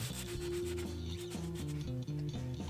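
80 grit sandpaper scuffs across a smooth 1095 steel knife blade in quick back-and-forth strokes, a close, steady rasping rub with a regular rhythm.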